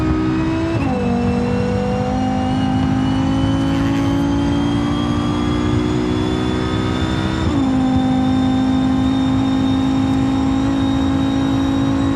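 A supercar engine in BeamNG revving loud and close, a sustained high whine that drops sharply at about 1 s and 7.5 s as gears shift, then climbs again.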